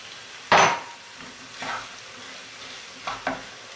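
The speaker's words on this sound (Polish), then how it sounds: "a tutaj mam podsmażoną cebulę, boczek i kiełbasę. I teraz już dodajemy pozostałe składniki." Onion, bacon and sausage frying in a pan as tomatoes are added for lecsó, with a loud scraping stir at first, then softer stirring strokes over a faint steady sizzle.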